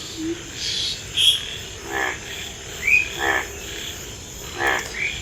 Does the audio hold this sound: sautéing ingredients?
no